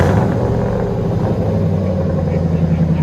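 A 2001 Mercury Grand Marquis with a 4.6L V8 and dual exhaust fitted with resonators idles with a steady, deep, loud rumble throughout, close to the car.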